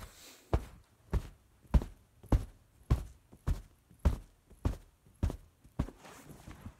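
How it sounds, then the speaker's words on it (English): Feet stomp a steady beat on the floor, about ten dull, heavy thumps evenly spaced around half a second apart, close and moderately loud with no talk over them, as a rhythm example in a music lesson. "You can do it with stomping."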